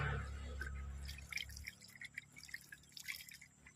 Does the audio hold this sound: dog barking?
no